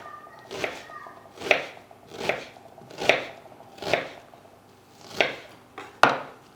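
A knife chops onion into small pieces, seven evenly spaced sharp thuds on a board with a steady rhythm, close and clear with no voices over them.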